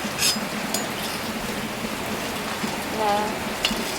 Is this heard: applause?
no